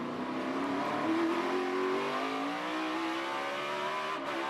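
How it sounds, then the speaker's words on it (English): NASCAR stock cars qualifying on the Sonoma Raceway road course, a loud continuous engine drone with rising and falling pitch as a car accelerates and shifts close by, without talk. "Suarez and Truex on track to finish this up."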